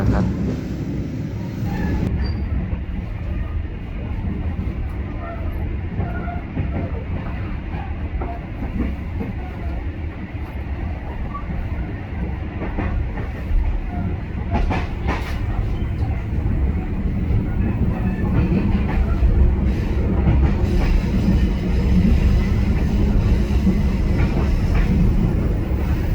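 The Kutojaya Selatan passenger train runs steadily toward Kroya station at night, its low continuous rumble and rhythmic rail clatter heard from inside the carriage.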